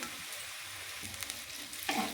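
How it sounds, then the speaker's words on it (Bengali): Peas, green chillies and chopped onion sizzle steadily in a hot pan, with a brief stirring clatter near the end; no talking. "এগুলো ওর সাথে একটু ভালো করে আমি ভেজে নেব"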